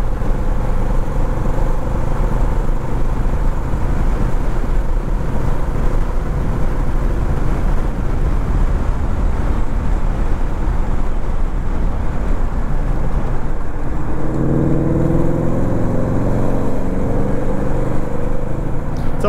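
Honda Rebel 1100 motorcycle riding through heavy Houston traffic, a continuous engine drone mixed with wind and road roar, with a shift in pitch near the end.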